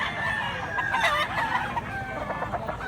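A young rooster (stag) crows at a livestock market in Mantalungon, Cebu: a loud, near, drawn-out call with other fowl clucking around it amid busy background noise.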